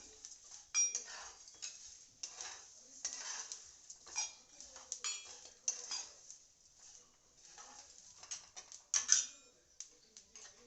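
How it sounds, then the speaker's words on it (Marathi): Onion-garlic masala being stirred and roasted in a pan, a spoon scraping and clinking against the metal in irregular bursts, close and fairly quiet. "पाच ते सात मिनिटं हे भाजायला लागतात हलवत राहिल्यामुळे मसाला करपत नाही व खमंग भाजला जातो"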